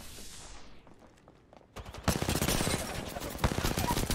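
Apex Legends gunfire during a Season 14 match: scattered faint shots, then a dense, loud run of rapid automatic fire that continues to the end.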